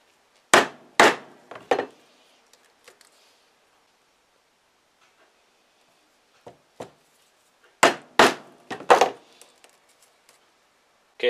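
A standard leather lacing punch is struck with sharp, hard knocks in two clusters of three or four blows each, loud and close with quiet gaps between, on a leather knife sheath.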